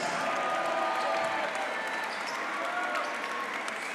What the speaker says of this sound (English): the seniors getting a nice round of applause